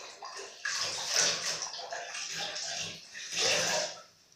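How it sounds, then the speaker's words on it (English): Lukewarm water splashed onto a face while washing, a close, wet sloshing and splashing in a few uneven bursts, louder near the start and again toward the end. "you wipe your face with lukewarm water"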